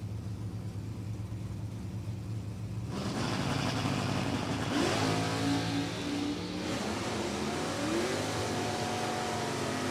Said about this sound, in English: A lot of RPM out of that supercharged Coyote engine.